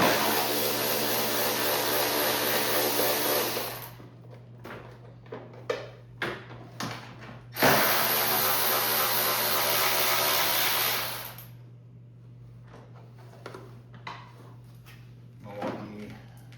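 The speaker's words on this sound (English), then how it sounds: "Milwaukee ratchet, working like a charm." A Milwaukee power ratchet whirs loudly for several seconds while removing the 10 mm airbox cover bolts on a 2025 Can-Am Outlander 850/1000. A second long burst follows, with clinks and handling noises between and after.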